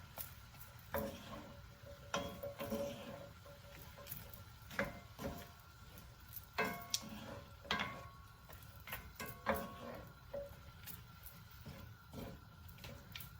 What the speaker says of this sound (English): I'm just going to give it a nice little stir around here